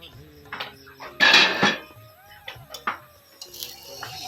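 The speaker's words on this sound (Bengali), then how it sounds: "ঢাকনা দিয়ে দিলাম" A metal lid set onto a frying pan while an egg paratha cooks, a sharp clatter and clank followed by lighter kitchen knocks and scrapes, close by in a quiet room.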